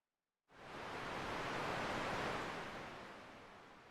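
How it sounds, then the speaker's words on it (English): Ocean waves ambience track from the video game PixelJunk Monsters Ultimate: after a moment of silence, a steady broadband wash of surf swells in and holds, then eases slightly, with no voices. "This is just the waves of, like, ambience."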